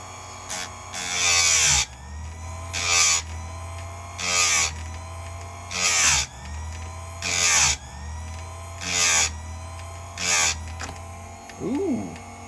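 Harbor Freight Chicago chain saw sharpener grinding a chain tooth: seven loud, evenly spaced bursts of high grinding over a steady motor hum, each lasting about a second.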